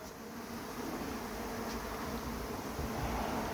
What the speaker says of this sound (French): Et cet essaim, je vais le mettre dans une ruche.